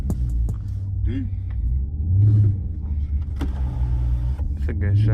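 A Dodge Charger Scat Pack Widebody idles inside a garage with a deep, low rumble running throughout, swelling briefly midway, while people talk over it and a few sharp clicks and knocks punctuate the scene.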